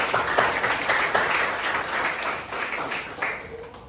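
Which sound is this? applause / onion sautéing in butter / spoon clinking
applause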